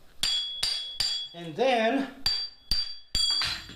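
Sharp metallic hammer blows knocking an old handle out of a Harbor Freight ball-peen hammer head, about seven ringing strikes at a steady rhythm with a brief spoken word in between.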